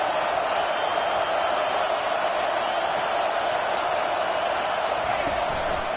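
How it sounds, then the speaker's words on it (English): A home crowd at a college football game roars loudly and continuously, a dense, steady wall of cheering that holds for the full stretch without letting up. "how nice is it to have the home crowd going absolutely bananas?"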